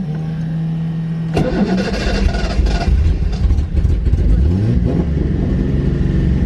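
A Datsun 240Z with hydraulic handbrake cranks and fires, a sharp onset near 1.4 s followed by a loud, rough, revving idle that fills the rest of the clip; no speech over it.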